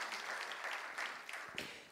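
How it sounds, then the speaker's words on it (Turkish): Audience applause at a Turkish business event launching a high-technology report: a soft, steady wash of clapping from a room of guests, quiet and somewhat distant, with a few sharper claps standing out near the end. "kuvvetli bir alkış alalım mı"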